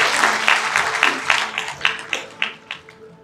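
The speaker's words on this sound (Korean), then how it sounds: "큰 박수 부탁드립니다" An audience applauds a plaque presentation at the 30th Mr. Gangwon bodybuilding contest in 2023, a loud burst of clapping that thins out into a few separate, spaced claps as it fades.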